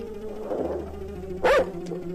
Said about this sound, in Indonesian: anjing gonggong